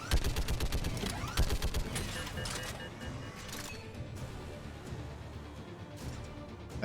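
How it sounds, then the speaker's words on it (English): Turret gunfire in Mass Effect Legendary Edition: a rapid, steady stream of mechanical shots for the first few seconds, fading into a dense wash of battle noise and explosions. "Now, I know there's a turret here, but yeah, whatever. I'm using it."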